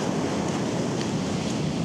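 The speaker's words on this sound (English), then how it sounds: "just listening to the waves crash is always soothing" Ocean waves on the Washington coast give a continuous broad wash of surf, steady and full with no break, with no voices.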